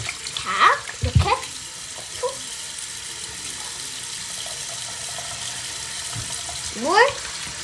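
Tap water runs into a bathroom sink for face washing, with splashy bursts near the start and again near the end and a steady low trickle between, while a voice briefly sounds early on.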